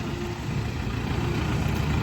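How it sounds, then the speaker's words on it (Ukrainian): A Jinma 404 four-cylinder 40 hp tractor engine idles, a steady low rumble with an even, unbroken drone, close and fairly loud. "Сьогодні відвантажуємо тракториця Джинма 404. Тракторець на 40 кінських сил, 4-циліндровий"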